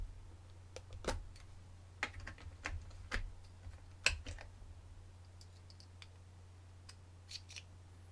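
Small metal tools from a screwdriver kit clatter and tick during laptop hinge repair work, a series of sharp, scattered clicks at irregular intervals, quiet and close with no talking.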